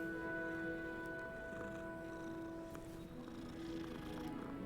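A cat purrs in the video game Hogwarts Legacy, a steady low continuous rumble running throughout under faint game music tones.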